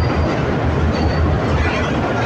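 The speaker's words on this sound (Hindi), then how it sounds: "4 नंबर प्लेटफॉर्म पर भी एक लोकोमोटिव आ रहा है जो शायद इसी को लेके आगे जाएगा" A locomotive rolls up to platform 4 at Lahore railway station, heard as a steady, dense low rumble with a faint high whine throughout, no talking.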